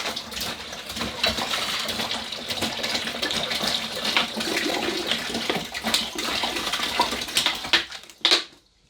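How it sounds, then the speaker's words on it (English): Water runs steadily into a brewing bucket for hibiscus mead, a continuous rushing pour close by that falters and stops near the end. "So let's add water."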